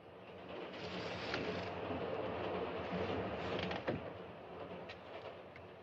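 Steady rumble and clatter of a train running in a 1940s film, continuous and moderately loud with occasional creaks and a brief clunk, no one speaking.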